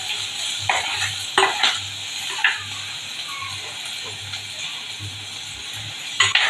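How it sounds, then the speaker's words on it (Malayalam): Food is sautéed in a pan by a young girl cooking, with a spoon scraping and clinking against the pan in irregular strokes over a low steady sizzle, close by. "വഴറ്റുവാണ് ഇപ്പം ഞാൻ"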